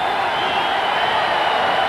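An arena crowd at Game 3 of the 1991 NBA Finals between the Bulls and Lakers keeps up a dense, steady roar of cheering throughout, loud and continuous without distinct peaks.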